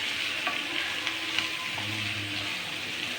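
Onions fry in oil for an Indian potato masala, giving a dense, continuous sizzle close by with light stirring scrapes mixed in and no voices.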